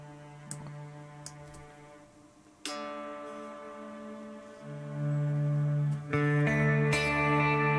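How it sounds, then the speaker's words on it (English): Guitar layered over an Ableton Live stock ambient synth pad, picked notes and chords ringing out on top of a sustained drone, swelling louder toward the end with no talk. "and I've got a pad sitting underneath it as well"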